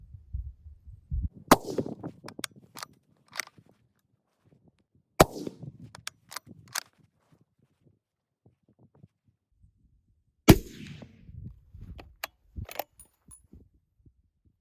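Three rifle shots are fired at a long-range paper target, each a sharp, loud crack spaced several seconds apart, trailed by short rattling echoes and quiet mechanical handling in between.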